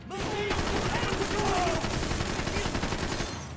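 Video game gunfire in Max Payne 3 rattles in dense, sustained automatic bursts, loud and continuous, with a voice speaking faintly underneath.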